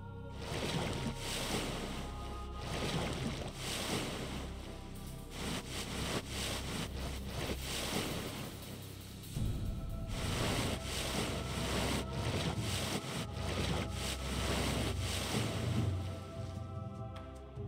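A boat crossing the river Styx in the underworld of Age of Mythology: Retold gives a continuous, fairly faint wash of water and rushing wind, with low rumble and soft surging swells throughout.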